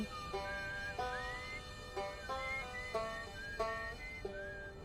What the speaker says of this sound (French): Ouais, les sifflements c'est Atrebois.